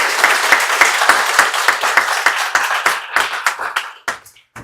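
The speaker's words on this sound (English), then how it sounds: "Please give our panelists a round of applause." An audience applauds panelists at the end of an evening press-club panel discussion, a dense burst of clapping that thins into scattered claps and fades out within a few seconds.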